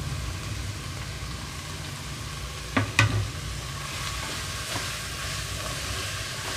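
Chopped mushrooms, mint and coriander sizzle in a pan for mushroom biryani, making an even, moderate hiss with a couple of sharp utensil clicks near the middle.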